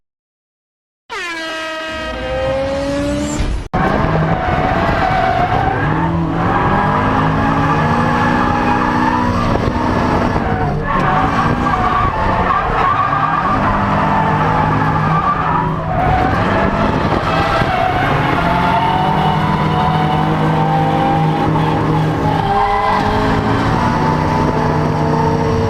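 A Lexus IS200 drift car sliding with long tire squeals and engine wail, beginning abruptly after a brief silence then sustained loud and close, the squeal pitch wavering throughout.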